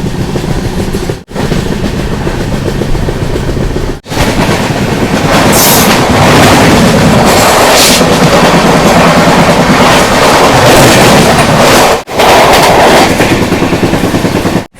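Janta Express passenger train rolling along, heard from inside a sleeper class coach: a loud, steady rumble with rhythmic clickety-clack of wheels over rail joints and brief dips in the noise, no voices.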